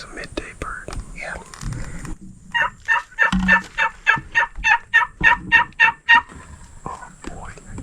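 A wild turkey gobbles in a rapid rattling burst of repeated notes, fairly close and clear outdoors, with whispered talk before and after.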